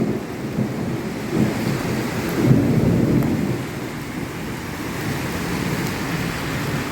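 Heavy rain bucketing down during a thunderstorm in Murwillumbah, Australia, makes a continuous dense hiss, with a deep thunder roll rising and fading midway.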